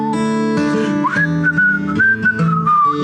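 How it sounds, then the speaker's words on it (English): Person whistling a simple tune during a church service, a clear close pitched whistle gliding between notes over a sustained instrumental backing. "Whistle."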